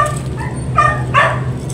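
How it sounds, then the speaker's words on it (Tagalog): A dog yipping and barking a couple of times in short, whiny bursts, somewhat distant over a steady low hum. "Ang ingay ng aso."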